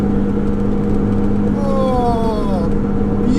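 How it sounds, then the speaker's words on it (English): Supercharged Mini R53 Cooper S engine revving at part throttle, a steady close rumble with a rising whine sweeping upward midway through. "That's not even full throttle, nowhere near it, but the supercharger,"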